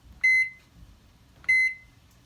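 Two short electronic beeps from a microwave oven keypad as a two-minute timer is set, about a second apart, close and clear over a faint low background hum.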